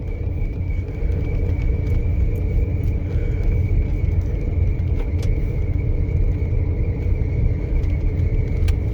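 A 1995 Lincoln Continental fitted with a Mustang engine idles cold, giving a steady, close, low rumble with a faint whine held evenly throughout and no voices.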